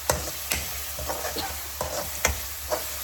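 Palak bhaji with soaked moong dal is stirred in a pan, rhythmic scraping strokes recurring about every half second over a constant sizzle, close and without talk.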